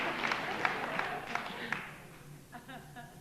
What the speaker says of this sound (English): That always gets applause